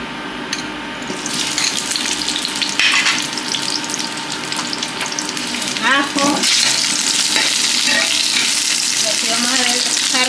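Onion and tomato frying in a pan, a loud steady sizzle that swells as the tomato goes in, with brief clatter and a watery burst partway through.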